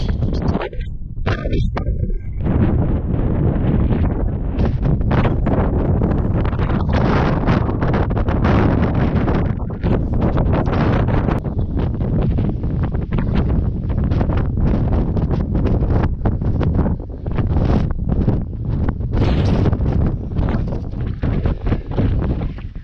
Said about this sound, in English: wind is back